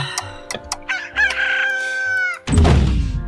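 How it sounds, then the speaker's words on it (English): Chickens clucking and a rooster crowing in the Slime Rancher video game, several short clucks followed by a drawn-out crow, then a loud burst of noisy game sound at the end. "Hello, chickens."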